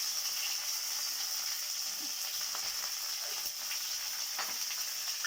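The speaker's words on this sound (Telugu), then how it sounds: "చిటపటలాడి మిర్చి వేస్తున్నాను, కరివేపాకు వేస్తున్నాను, ఘమ ఘమ అంటుంది. ఇప్పుడు జీలకర్ర వేస్తున్నాను" Chillies, curry leaves and cumin crackle in hot oil for a pumpkin curry, giving a steady, close sizzle with scattered small pops across the whole stretch and no talking.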